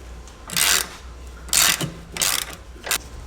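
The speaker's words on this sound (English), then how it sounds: "slip on a open head wrench on the bolt side, and then I'm going to use an 18 millimeter here on the nut side and break this loose" An 18 mm wrench cranks on the nut side of a suspension bolt on a BMW M2 F87 while an open-end wrench holds the bolt side. Several sharp metallic ratcheting bursts come in quick succession, loud and close.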